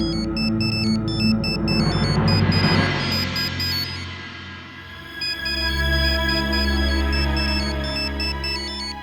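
A phone ringtone plays loudly and continuously, a repeating electronic melody with bright tonal beeps, heard alone.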